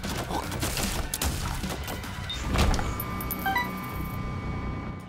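Rapid triple-shot firing in The Binding of Isaac Afterbirth+, a busy stream of clicky, popping game sound effects layered over steady background music, with a few brighter chimes near the end.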